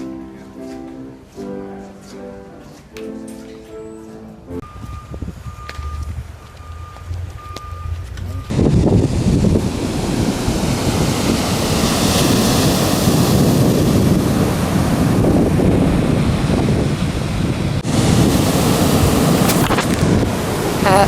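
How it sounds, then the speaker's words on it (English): Waves and surf roll in at a windy beach while gusts buffet the microphone, loud and continuous; a short stretch of other ambient sound and a faint tone precede the wind-driven roar. "So now I'm at the beach."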